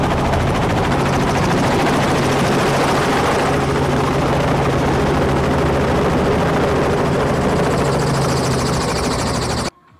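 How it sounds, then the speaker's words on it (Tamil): Helicopter landing at the end of a tour at a Top End safari camp, its rotor and turbine roaring loud and close in a steady, unbroken drone that cuts off abruptly near the end. "இப்போ வந்து நாங்கள் ஹெலிகாப்டரில் இருந்து தரையிறங்க போகிறோம் மக்களே"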